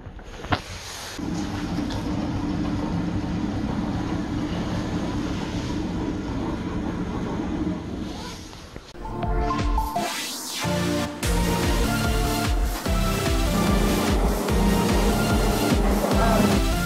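An elevator travels in its shaft, heard from the motor room above, as a sustained rumbling drone with machinery rattle. A short dip is followed by louder, busier mechanical clatter and whirring as the motion continues, with no speech.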